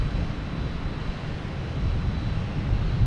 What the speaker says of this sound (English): here comes that JetBlue from Nantucket